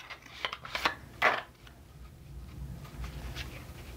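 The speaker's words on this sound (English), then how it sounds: "Let's shuffle up some cards." A deck of playing cards being shuffled up close, giving a few quick riffling bursts and one louder flurry early on, then quieter handling with soft rustle and low background noise.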